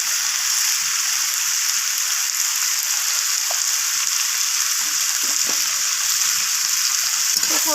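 Vegetables stir-fry with chili and cumin powder in a pan, giving a loud, dense, unbroken sizzle close up, with a few faint scrapes of stirring beneath.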